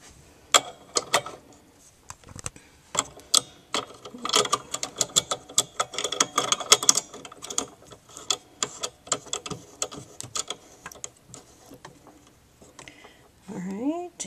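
A blade housing clicks and ratchets as it is fitted back into a Cricut cutting machine for a holly leaf wreath project, a dense run of small, close mechanical ticks and snaps with a brief rising whir near the end.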